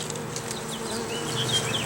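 A swarm of honey bees buzzing close by, a dense steady hum with individual bees whining past, outdoors during a swarm capture.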